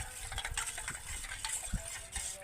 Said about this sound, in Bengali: চামচ দিয়ে এইভাবে গুলিয়ে নেব।